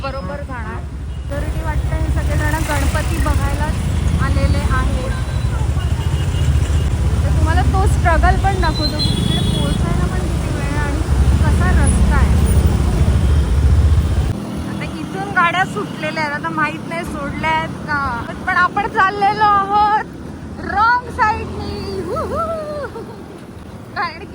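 Busy Mumbai street traffic during the Ganeshutsav festival, with a dense low rumble of engines and crowd babble, people talking throughout, and the traffic noise dropping away partway through while voices continue.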